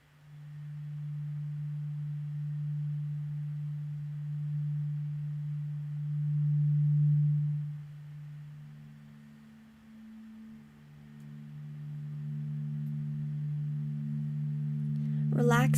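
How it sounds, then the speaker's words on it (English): Steady, low, buzzing hum from one voice doing Bhramari breathing, held on a long even exhalation, then a brief dip as if for a breath before the hum resumes. It sounds close and fairly soft, with no talk. "Big breaths in, slow, audible, humming breaths out."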